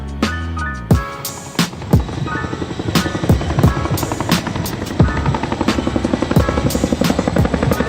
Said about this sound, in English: While the aircraft gets ready to perform its next maneuver